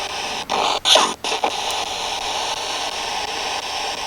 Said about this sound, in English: Right now, Tim is starting his spirit box.